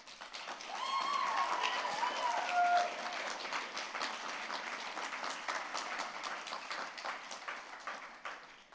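TEDxVCU 2026 audience applauding the curation team, a dense, sustained hall-filling applause that swells within the first second and then holds steady, somewhat distant and moderately quiet, with brief cheering and whoops early on.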